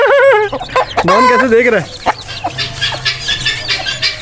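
Chickens and a turkey cluck and squawk close by in a farmyard pen, loud repeated calls and a rooster-like crow, with someone speaking briefly over them.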